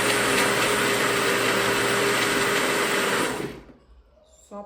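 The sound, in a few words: blender mixing batter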